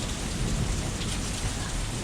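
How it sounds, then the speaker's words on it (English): Heavy rain and continuous rumbling thunder fill a severe thunderstorm outdoors, a dense, loud, unbroken wash of low roar and pelting rain with no voices. "There is just constant thunder."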